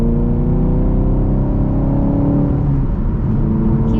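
A car cruises on a highway with a steady, loud engine drone and road rumble from inside the cabin, continuous and unbroken, with no talking.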